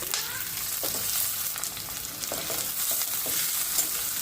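Onion frying in a pan for chicken curry, a continuous close sizzle broken by repeated stirring scrapes of a spoon.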